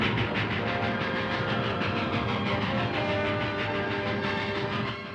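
Steam-era train in the Old West rolling steadily with dense rumbling rail noise and faint clatter, heard alone and fairly loud throughout, easing slightly at the very end.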